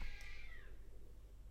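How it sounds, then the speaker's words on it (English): Cats fighting outdoors, one drawn-out yowl that fades within the first second, faint and distant, followed by quiet background noise. "there's some cat fight outside"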